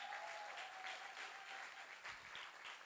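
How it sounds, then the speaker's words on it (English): Steady audience applause at a community talent show, with a thin sustained tone running faintly under the clapping for most of its length. "Jeff Ryan, give him another round of applause"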